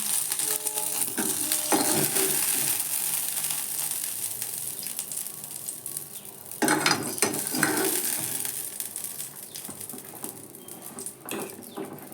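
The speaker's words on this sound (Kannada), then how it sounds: "ಸಾರು ಕುದೀತಾ ಇದೆ ಒಗ್ಗರಣೆ ಹಾಕ್ತಾಯಿದ್ದೀನಿ" Hot oil sizzles and crackles steadily as a tempering is added for a honagone greens sambar, with intermittent scraping and stirring noises from a pan; no one speaks.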